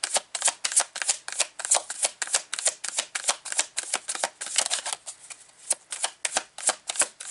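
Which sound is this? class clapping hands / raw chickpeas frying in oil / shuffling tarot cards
shuffling tarot cards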